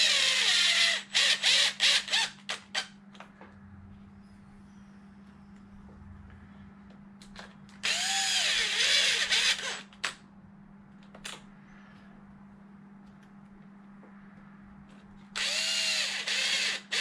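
A power drill drives screws into a Traxxas X-Maxx RC truck during repairs after a 40 mph crash into a boulder, with three loud whirring bursts separated by quiet stretches of clicks and handling noise.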